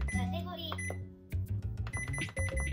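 A kitchen cooker's control panel beeps as a menu is selected for an open omelet, clear electronic tones sounding over a person talking.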